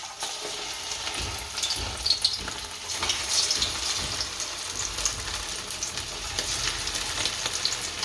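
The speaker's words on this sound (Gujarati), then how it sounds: "હવે આને તળી નાખશું." Steady, close sizzling of puffed-rice tikki frying in hot oil, a continuous crackling hiss that stays even throughout, with no one speaking.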